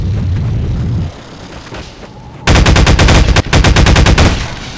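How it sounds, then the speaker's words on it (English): Shotgun blasts in the Half-Life 2 video game ring out in a rapid, loud series of sharp reports after a quieter stretch of ambient game noise, with the rhythm of repeated firing. "Shotgun!"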